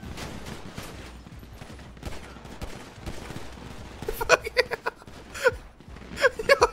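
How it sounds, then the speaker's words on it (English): Gunfire in a GTA V NoPixel roleplay street shootout, a loose scatter of sharp shots building into denser bursts toward the end, heard over a busy background of game noise. "I'm shooting him."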